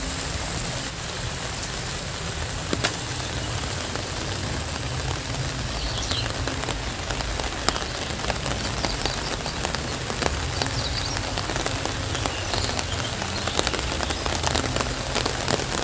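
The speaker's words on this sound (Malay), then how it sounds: "Hujannya cukup besar sekali nih." Heavy rain pours down on a quiet village, a dense, steady hiss of drops drumming on surfaces that fills the whole stretch evenly, with no voices.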